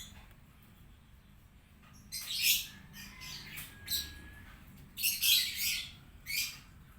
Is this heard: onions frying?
no